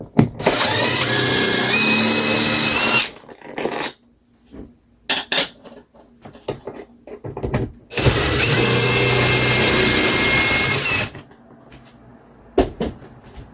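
A power tool driving out bolts from a metal plate on an RV ceiling at an air conditioning unit, two loud sustained whirring bursts separated by clicks and clanks of handling, close up with no talk.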